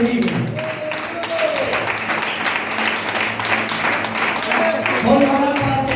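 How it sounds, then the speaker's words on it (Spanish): Applause from a congregation at a Spanish-language church service, a dense, continuous patter of many hands clapping at full strength throughout, with voices shouting and talking underneath. "Aplaudan que vive."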